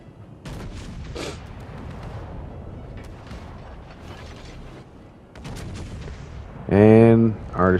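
Naval guns fire at a V-25 in a warship video game, heavy booms and mechanical clanking over a rumbling background, ending with a loud tonal burst near the close.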